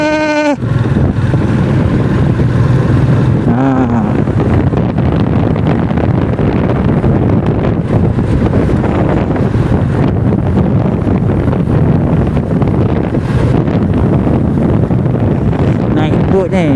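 A boat runs across open water near Pulau Banding in Royal Belum, with a constant loud roar of engine and wind buffeting the microphone throughout, and a voice speaking briefly at the start.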